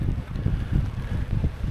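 Wind gusting across a wet and windy Trial Bay, a steady low rumble of buffeting microphone noise with no speech.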